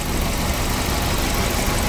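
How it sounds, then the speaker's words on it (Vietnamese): Kia Morning SLX, 2010 model with a 1.0-litre engine and automatic gearbox, idling steadily, a constant low rumble with no voices over it. "ôi máy nổ không thể đỡ được"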